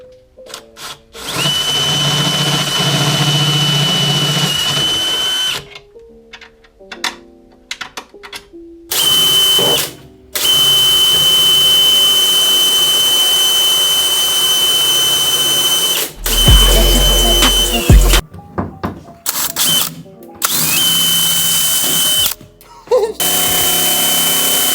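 A power drill bores holes for hood brackets while fitting a carbon hood to a Kia Stinger, with several long, steady whining runs broken by short pauses and brief bursts, loud and close.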